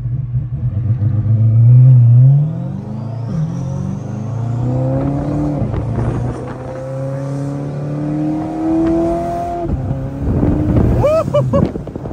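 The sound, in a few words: 1400 horsepower C8 Corvette engine revving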